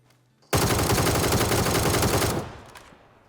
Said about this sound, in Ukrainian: З калаша можна стріляти.